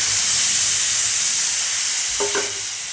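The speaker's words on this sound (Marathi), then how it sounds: "आणि आता पाणी टाकूया फोडणीला." Water poured into a hot tempering for shengole bursts into a loud, steady sizzle and hiss close by, with a brief clink of a utensil near the end and no talking.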